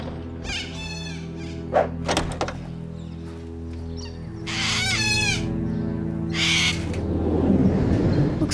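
Birds squawking and a rooster crowing in a cartoon, loud close calls and harsh squawks in bursts over a low hum, ending in a louder noisy flurry.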